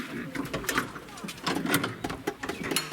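Pigeon or dove cooing in short repeated bursts amid cluttered background noise, with faint talk nearby.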